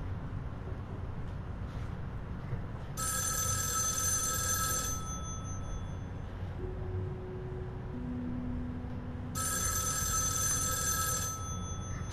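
A telephone rings twice in bursts of bright electronic trills separated by a pause, heard over a steady low background hum.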